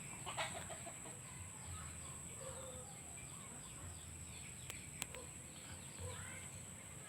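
Faint clucking from native chickens in the distance over a steady background hiss, with a few soft calls scattered through.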